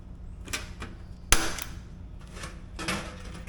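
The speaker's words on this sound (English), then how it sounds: "The other thing my husband likes to do is rivet the cap to the pipe." Rivets set into a stovepipe cap on a DIY bluebird nest baffle, heard as a few sharp metallic snaps, one loud and close among fainter clicks and light handling noise.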